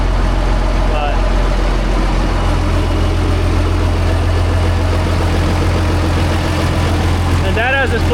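Classic tractor engine idling on a 20-degree day with a serious oil leak, giving a loud, steady low-pitched throb close by, with someone talking briefly over it.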